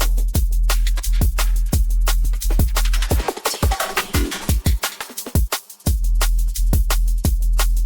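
A minimal drum and bass drop with its first beat removed: driving kicks, snares and bass stop for a noisy, filtered breakdown of scattered hits before the full groove slams back in, loud and with no talking.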